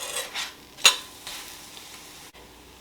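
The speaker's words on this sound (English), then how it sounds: "You're going to cook your tortilla until it's semi-crispy." A tortilla frying in a pan, soft sizzling hiss with a few sharp scraping clicks from utensils, close and fairly quiet, no talking.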